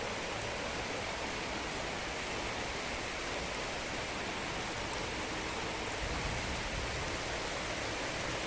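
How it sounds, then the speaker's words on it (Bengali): Heavy rain pours down steadily outside a house window, a dense, continuous hiss of water falling on surfaces with a low rumble beneath, with no voices. "পুরো জল পড়ছে।"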